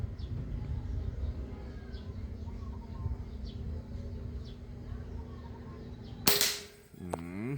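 A PCP air rifle pellet strikes a metal plate target with a single sharp, loud metallic crack and a brief ringing decay, preceded by a low outdoor hum and faint bird chirps.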